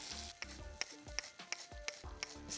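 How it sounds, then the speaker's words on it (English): A pot deglazed with a little water for burger au poivre, a loud bubbling sizzle broken by repeated sharp pops and scrapes at a steady pace. "So I'm going to deglaze with a little bit of water just to get all the caramelization in the bottom of the pot"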